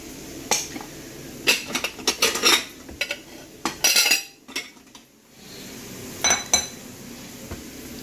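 An herbal mixture is tipped into a mesh strainer set over a bowl, giving scattered clinks and scraping knocks of utensil and metal, with quiet pauses between the bursts.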